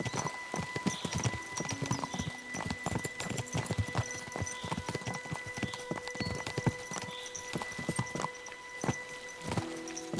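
Steady horse hooves clip-clop in a quick walking rhythm, close and clear, with a faint whinny and a soft musical tone underneath.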